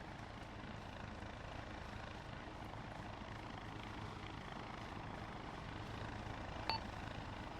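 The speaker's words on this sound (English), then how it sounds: "Oh my god, is Heli gonna land?" A helicopter in a multiplayer shooter video game hovers nearby as a steady, broad rotor-and-engine rumble that holds at constant loudness throughout, with a brief faint ding near the end.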